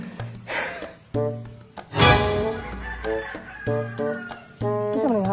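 Rooster crows loudly up close in a yard with chickens clucking around it, several bursts of crowing and clucking with a short spoken word mixed in.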